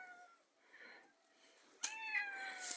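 A cat learning to climb down from an attic meows repeatedly, soft at first and then a louder plaintive cry, close by in a quiet space.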